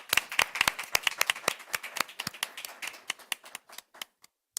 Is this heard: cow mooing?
no